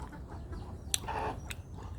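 A couple of soft, brief clucks from chickens, including a hen, faint and some distance away in the countryside, over quiet background noise.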